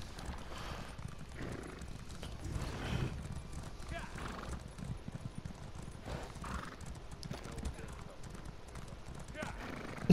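Horse hooves clip-clop in a galloping rhythm in The Elder Scrolls Online, moderately close with an occasional whinny, while a player talks over the action.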